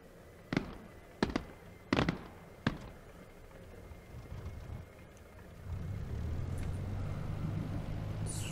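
A de Havilland DH.98 Mosquito FB Mk VI twin-engine piston fighter-bomber in DCS, its engine coughing through a few sharp pops before catching into a steady low rumble that holds to the end.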